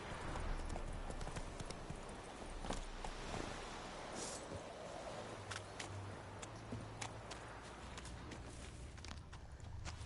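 A horse's hooves clip-clop steadily at a walking pace in The Witcher 3, a fairly close, even rhythm over outdoor ambience with no voices.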